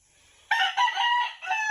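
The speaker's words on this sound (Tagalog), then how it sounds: "May mga manok siyang alaga. Tapos may manok din siya na galing sa lasang." A rooster crows loudly and close by on a farm with banana trees, its strained, rising call broken into several segments over faint background hum.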